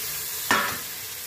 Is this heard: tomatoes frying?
yes